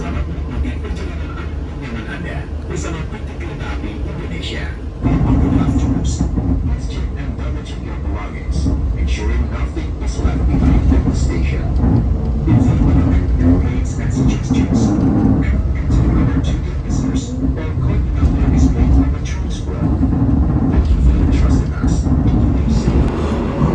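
The Gumarang passenger train rumbles and clatters steadily nearby as it departs Surabaya Pasar Turi station, the noise swelling as it gets moving, with scattered knocks and squeals over the low drone.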